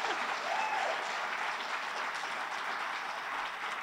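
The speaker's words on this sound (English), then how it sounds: "oh yes, applause" A crowd applauds at a Friend of the River award presentation honoring a county legislator, a dense, even wash of clapping that holds steady at moderate loudness throughout.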